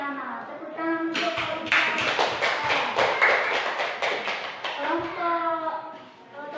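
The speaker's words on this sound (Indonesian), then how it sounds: "Tepuk tangan untuk kelompok ekosistem sungai." A classroom of children claps for a student group during a lesson, a short burst of scattered applause framed by children's voices talking before and after.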